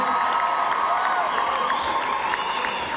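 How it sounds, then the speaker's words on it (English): A crowd cheers and applauds steadily at a sheep-shearing contest between Wales and New Zealand at the Royal Welsh Show, a dense, sustained roar of clapping and shouts with a few whoops rising above it. "give him another round of applause"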